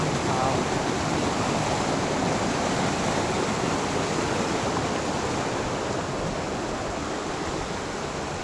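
Anakkund waterfall in Meppadi, Wayanad roars as a steady, loud, broadband rush of falling water, continuous and unbroken throughout.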